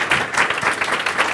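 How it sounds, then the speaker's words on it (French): An audience at a university research presentation applauds two presenters, a steady, dense patter of many hands clapping throughout the short stretch, with no speech over it. "Alors, on peut applaudir nos deux présentateurs qui l'ont bien mérité."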